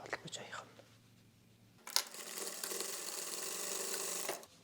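A sewing machine stitching fabric seams together, a steady mechanical whir that starts partway in and then holds level. Softer fabric handling comes before it, and there is no clear talk.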